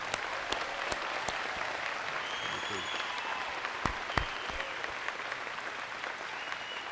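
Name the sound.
applause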